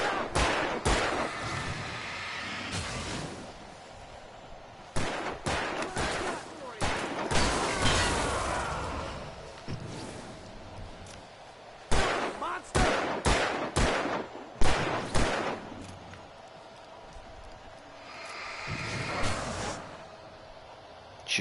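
Gunfire in the action game Alan Wake Remastered: loud sharp shots and rapid bursts come in clusters, separated by quieter gaps of ambient noise and reverberation.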